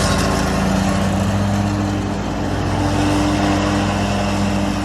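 A lawn mower cutting grass on a steep mountain hillside drones loudly and steadily at close range, its engine holding an even, rough hum throughout with no talking.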